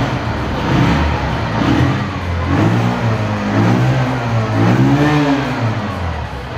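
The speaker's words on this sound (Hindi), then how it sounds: "अब इसका इंजन स्टार्ट करते हैं और इसका साउंड कैसा है आपको" Bajaj CT 110X motorcycle engine, 2023 model, running at idle and being revved, a close, loud, steady mid-pitched thrum that rises and falls in gentle waves with no talking.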